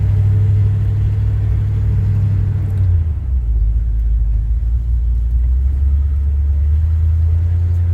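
A 1978 Chevy C10 pickup truck idles as it slowly backs up, a loud, deep engine rumble whose pitch drops partway through and then holds steady, with no talking.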